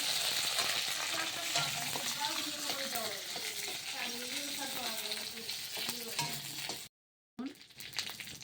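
Leaves fry in hot oil, giving a dense continuous sizzle with occasional stirring scrapes, steady and close, then a brief cut to silence before the crackle resumes.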